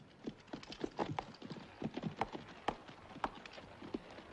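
Several horses being led on foot, hooves clip-clopping in an uneven overlapping rhythm at close range, fairly quiet, with no talking.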